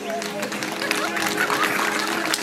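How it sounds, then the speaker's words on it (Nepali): A group of people clapping hands during a yoga exercise session, a steady patter of claps spread evenly across the clip with a faint tonal hum beneath. "ताली बजाइदिनुहोस्"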